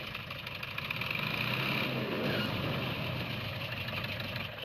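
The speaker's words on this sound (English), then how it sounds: "I want this sound effect to fade out as the car comes to a stop" Car engine running steadily at a low, even level with a broad rumble, holding constant before easing slightly at the end as the car comes to a stop; no talking.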